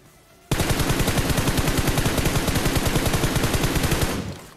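Automatic gunfire in PUBG Mobile: a long loud burst of rapid, evenly spaced shots, close and alone, lasting about three and a half seconds before cutting off.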